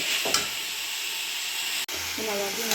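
Fried rice frying in a pan in a village-style kitchen: a steady broadband sizzle and hiss runs throughout, with a brief stir clatter near the start, a short dropout, and a faint voice near the end.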